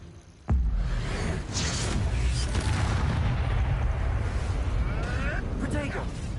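Bombarda explosion spell in Hogwarts Legacy, a sudden heavy blast that opens into a sustained rumbling, whooshing roar. Game effects and a voice run through it.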